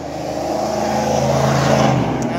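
Loud, steady rumble of passing vehicles with throaty mufflers on Harkers Island, a continuous engine drone that swells slightly toward the end, heard close by and without talk.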